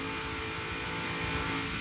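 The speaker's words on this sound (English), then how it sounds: "You listen to the engine and you never hear change sounds." Onboard engine of a NASCAR stock car at the 1998 DieHard 500 at Talladega, a loud sustained drone held at a nearly constant pitch with no gear changes, close and unbroken.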